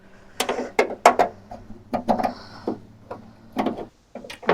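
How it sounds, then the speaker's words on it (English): A wrench works on a part under the dash of a 1967 Plymouth Fury VIP, giving sharp, irregular metallic clicks and clanks up close in quiet surroundings. "Let's see if I can get this with a wrench."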